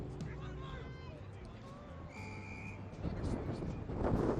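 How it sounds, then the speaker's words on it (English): Referee's whistle blowing at a rugby match, several short whistle tones rising above a busy crowd murmur and wind noise, with the crowd swelling louder toward the end. "gets nowhere as the whistle blows"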